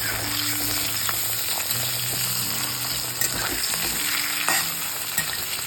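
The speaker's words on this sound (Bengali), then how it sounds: "আর এইটাকে ভাজা করছি।" Green pumpkin pieces fry in a little oil over low gas, giving a steady close sizzle with occasional stirring scrapes and clinks throughout, no talking.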